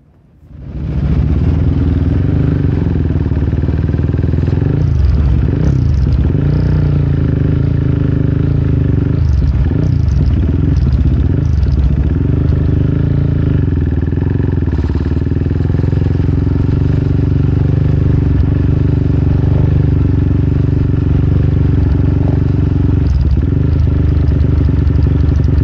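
Kramer Supermono racing motorcycle engine running on the grid at Donington, a loud, steady close-up drone that holds for the whole stretch with small throttle flutters and no speech.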